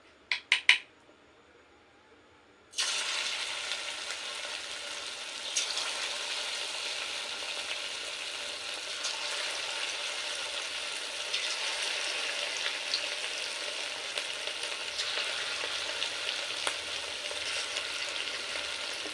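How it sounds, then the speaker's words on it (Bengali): A few quick clicks, then a steady, loud sizzle of chicken pieces frying in hot oil that crackles on without pause. "ভেজে নেবে"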